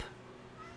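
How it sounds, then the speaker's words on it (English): A pet cat gives one short, faint meow at the very start, followed by quiet room tone. "That's my cat you hear."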